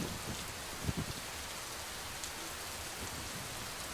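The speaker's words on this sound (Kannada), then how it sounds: "ಭಾರೀ ಮಳೆ." Heavy rain from Cyclone Fengal pours down as a dense, steady hiss across the whole stretch, with a couple of brief low thumps early on.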